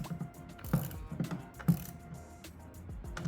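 Ratchet clicks in short bursts from a long socket on a short extension, working on a 2020-2024 Ford Escape ST-Line 1.5L during a MAP sensor repair; close, moderately loud pawl clicking in three or four quick spurts, no talking.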